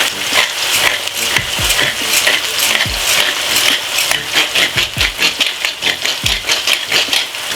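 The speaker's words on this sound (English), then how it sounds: "For me, I just fry my okra like this" Okra frying in a pan with thyme, a loud continuous sizzle broken by repeated scraping and stirring strokes at a steady rhythm, close up and with no talk.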